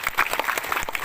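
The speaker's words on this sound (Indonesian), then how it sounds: "kita kasih tepuk tangan buat Nasdem ya" Brief burst of crowd applause at an Indonesian political gathering, offered in support of the Nasdem party. Scattered, moderately loud clapping lasts about a second with no voices.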